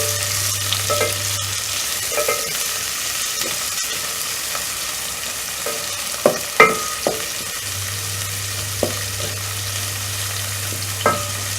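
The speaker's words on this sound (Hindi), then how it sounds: "जैसे ही ऑयल गर्म हो जाए उसमें प्याज शामिल कर दें।" Sliced onions sauté in hot oil in a pan, a steady close sizzle with occasional sharp stirring clicks and spoon scrapes, no one speaking.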